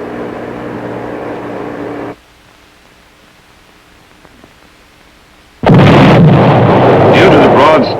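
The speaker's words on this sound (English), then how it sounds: "allows the gun to be fired from a platform less massive than previously necessary" A T-235 artillery gun fires, a loud broadband blast erupting suddenly after a stretch of quiet and a steady drone, with rumbling decay continuing afterward.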